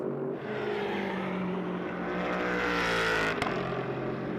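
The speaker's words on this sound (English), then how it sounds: "There's Baptista coming through the chicane. Soucek gets up to speed." GT race car at Las Vegas Motor Speedway in a Blancpain GT World Challenge America race, accelerating out of a chicane: a loud, continuous engine roar rising steadily in pitch, with a brief sharp shift or pop near the end.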